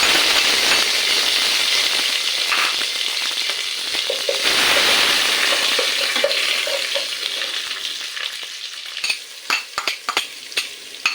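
Dried red chillies and curry leaves spit and sizzle in hot oil in a pan, a steady loud crackle that settles before sharp stirring clicks of a utensil against the pan near the end.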